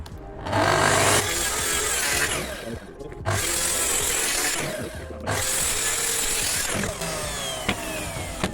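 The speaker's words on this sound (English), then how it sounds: "Bit less stress on the plunge saw, bit less stress on the blade, and then it doesn't burn the wood either." A plunge saw rips through a plywood sheet for van shelving in loud, steady whining passes, with two short dips where the cut eases before the blade bites again.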